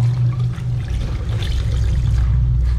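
Running tap water rinses cleaner and dirt out of a foam air filter, a close, steady splashing pour that carries on throughout with no voices.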